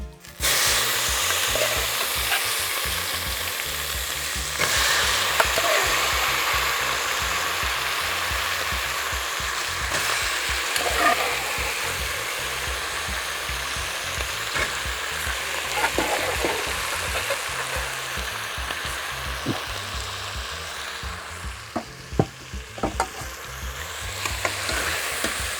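Precooked, drained beef hisses loudly in a pan with onion, curry leaves and dried chillies for a Kerala-style beef pickle. The sizzle is dense and continuous, and occasional stirring clinks and scrapes rise above it.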